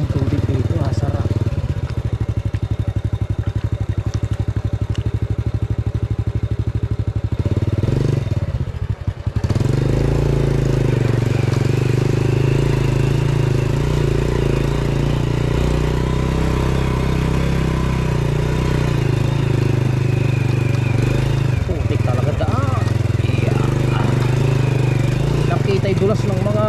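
A motorcycle rides along a muddy, slippery trail, its mid-pitched engine droning steadily and close throughout, with a brief dip partway through and a voice speaking over it.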